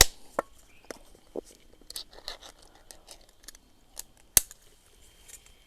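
Tin of German Bundeswehr army ration bread being opened by hand: sparse, quiet close-up clicks and scrapes, then one sharp metallic snap near the end, with no talking.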